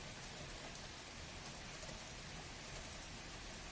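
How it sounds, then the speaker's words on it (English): Steady rain hiss heard on a livestream, a continuous broadband patter of drops on a surface with a faint distant rumble, alone with no talk. "You literally increased the rain sound, I heard it."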